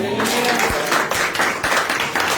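A church congregation claps along in a steady rhythm during a Hindi sermon, sharp claps landing roughly twice a second at close range, with a voice faintly beneath.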